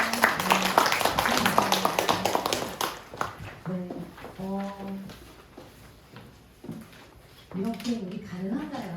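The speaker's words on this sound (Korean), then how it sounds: "박수 부탁드립니다." Loud applause from an audience at a talk on love comes first and fades after about three seconds, followed by a speaker's voice.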